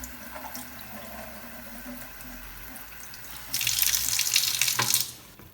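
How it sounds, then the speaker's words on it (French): Pressurised tap water runs into Berkey water filters to prime them, a steady hiss and trickle that swells into a louder rushing gush near the end before cutting off; no voices. "on fait couler de l'eau sous pression et on garde la pause pendant une soixantaine de secondes"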